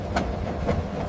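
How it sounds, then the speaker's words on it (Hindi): A train rumbles steadily, with rhythmic clacking from its wheels on the rails. "ट्रेन मीन रेल गाड़ी, ट्रेन का मतलब रेल गाड़ी."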